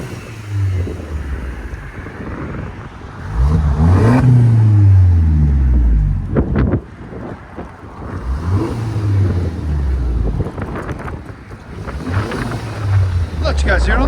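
Revving exhaust of a 2012 Mercedes C 250 with a muffler delete, several loud rising and falling throttle blips heard close up outdoors, with wind and a voice talking over parts of it.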